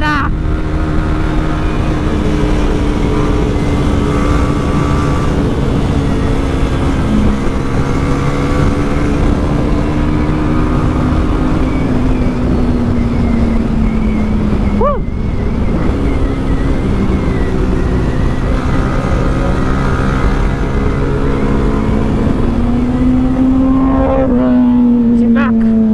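A motorcycle climbs a mountain road uphill under heavy wind rush, its engine note rising and falling through gear changes while a Kawasaki ZX-10R overtakes, with a voice talking over the ride.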